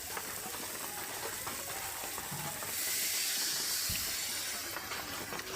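Water poured into a hot pan of fish curry sets off a broad hissing sizzle that swells midway and stays steady, with light stirring scrapes, close but fairly quiet, and no speech.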